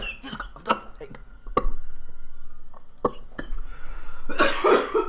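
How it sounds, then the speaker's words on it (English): Harsh, repeated coughing from a person choking on Diet Coke, several sharp bursts close by followed by a longer rough fit, with voices talking between. "Just coughed up."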